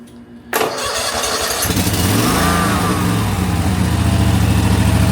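A Snapper ZTR zero-turn riding mower cranks briefly and catches, its engine settling into a loud, steady idle that continues to the end.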